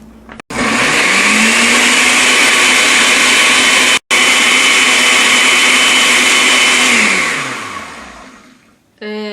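A blender whirs at high speed through cashews and a little water, a loud steady roar that spins up near the start, holds with one brief cutout, then winds down near the end.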